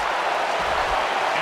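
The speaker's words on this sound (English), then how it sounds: "The crowd responds." A crowd in the mixed martial arts game UFC 2009 Undisputed reacts to a knockdown with a steady, broad roar of cheering that stays even for the whole short stretch.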